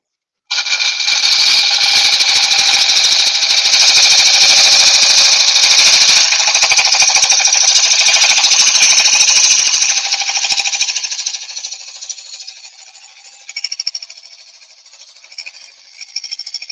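A woodturning lathe tool cuts into a wooden hollow form, producing a loud, steady, chattering rasp that holds for about ten seconds before easing off into quieter, intermittent scraping.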